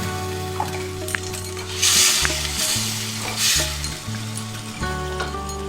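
Katla fish head curry masala with fried potatoes and slit chillies sizzles and is stirred in a pan as water goes in, a steady hiss broken by bursts of louder spitting and clinks of the utensil, with no talking.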